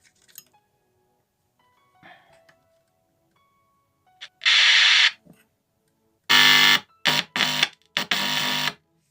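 Sound output from an LA4440 amplifier circuit after a dead-sound fault is fixed by replacing the IC: loud buzzy tone bursts, one around the middle and several choppy ones near the end, after quiet handling clicks.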